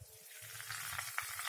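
Ghee sizzling in a hot iron kadhai, a steady close hiss with soft crackles throughout the brief moment.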